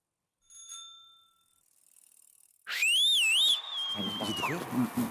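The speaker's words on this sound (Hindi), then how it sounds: "लोग सीटी मार रहे हैं" A loud, wavering whistle aimed at someone swoops up and down after a short ringing, bell-like tone, then trails off into a noisy scene with voices.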